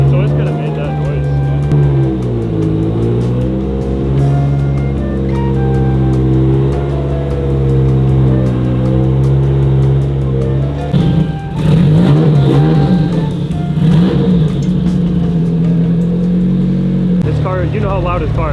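An SR20 or RB26 engine revs hard and steady on a dyno, a loud sustained drone with rising and falling pitch and a louder surge near the end, with people talking over it.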